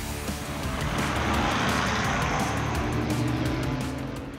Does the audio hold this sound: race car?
yes